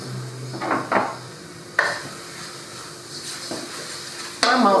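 Onion and chicken spices sizzle in a pot over a lava stone fire, a soft frying hiss broken by a few clanks and scrapes of a utensil against the pot, fairly close.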